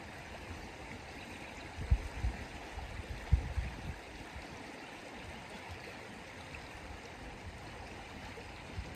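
A river flowing along the Camino de Santiago pilgrimage route: a steady, soft rush of water throughout, with a few low thumps early on.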